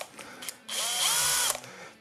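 An electric drill backing a screw out of a Hot Wheels toy car, a steady whirring run of under a second, close and loud, with a few light handling taps around it.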